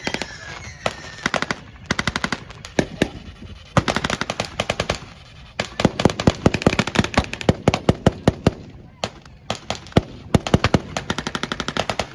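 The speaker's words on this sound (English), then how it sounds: "On your left, you can hear United States weapons, including the M1918 Browning automatic rifle, 30-06 caliber, fully automatic" Fully automatic bursts from an M1918 Browning automatic rifle in .30-06, fired at a World War II reenactment, crackle loudly in short and long strings with brief pauses between them and no talk.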